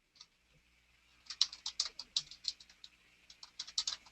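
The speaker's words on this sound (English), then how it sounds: "so we're going to type in separate procedure." Fingers tap at a computer keyboard in an uneven run of quick, light keystrokes, faint and close, with no talking.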